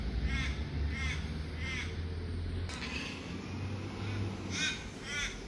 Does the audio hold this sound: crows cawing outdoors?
yes